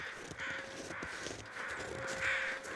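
Carrion crows cawing in The Long Dark video game, repeated harsh caws from several birds, moderately distant, in a quiet snowy wilderness atmosphere.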